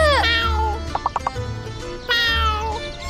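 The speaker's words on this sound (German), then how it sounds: "Meine Katze!" A ginger cat meows loudly and close by, two long drawn-out calls separated by a few short sharp sounds, over a low steady background hum.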